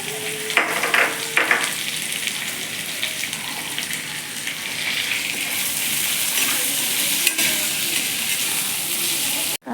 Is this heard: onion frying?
yes